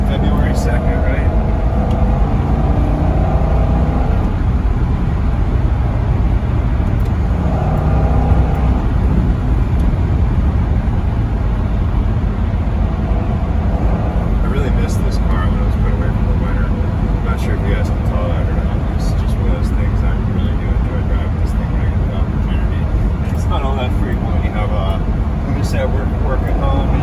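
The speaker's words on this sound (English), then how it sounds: "Rolling around in a C6 Corvette." A manual base C6 Corvette with an LS2 engine cruises with the top down, giving a loud, steady engine and road roar throughout with wind noise and no clear pauses.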